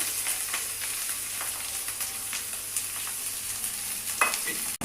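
Chopped ginger and garlic with curry leaves sizzle steadily in hot oil for Pathanamthitta-style fish curry, with a spoon stirring and scraping intermittently through the constant frying hiss.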